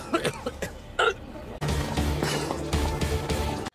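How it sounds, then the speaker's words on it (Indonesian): Several sharp coughs in a quick, uneven burst from a character coughing up blood, then a steady noisy rumble that carries on after them. "tiba-tiba batuk-batuk dan mengeluarkan darah"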